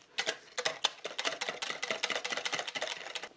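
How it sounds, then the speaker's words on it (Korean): Three eggs with a pinch of salt beaten in a bowl, a rapid run of close, crisp whisking taps that keeps a fast, fairly even rhythm throughout. "계란을 이렇게 3개를 풀어놨습니다."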